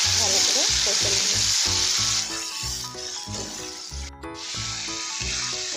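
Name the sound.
ground spice paste with mustard, onion, tomato stir-fried in pan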